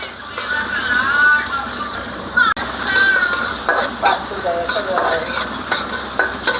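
Spice paste for an okra (bhindi) fry sizzles steadily in a pan while being stirred, with scraping and light clinks from the utensil throughout, close and continuous.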